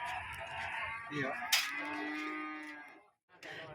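Cattle moo in a long, loud call with a rising harmonic pitch, followed by a brief quieter vocal sound after a short pause, heard up close on a farm.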